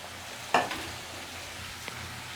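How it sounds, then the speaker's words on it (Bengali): Chopped bottle gourd goes into a pan of fried shrimp, setting off a sharp burst of sizzling. A steady, softer frying hiss follows, with one brief clink as the pieces are stirred. "এবার এই চিংড়ি মাছগুলোর ভেতরেই আমি লাউটা দিয়ে দেব।"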